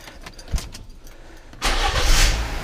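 A Fiat Strada engine, freshly serviced with an oil change and new filter, is cranked a couple of times before catching at once and settling into a steady idle close by.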